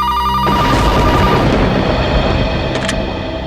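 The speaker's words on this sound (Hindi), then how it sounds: "दिन में तो कभी फोन की घंटी बजती नहीं।" A loud telephone bell rings at night in a quiet house, a sustained metallic trill that starts abruptly and fades slightly toward the end, with no one speaking.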